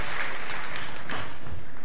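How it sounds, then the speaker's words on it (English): Loud, continuous crowd applause at a televised bowling tournament, a dense wash of clapping heard close and steady throughout. "You saw her applaud."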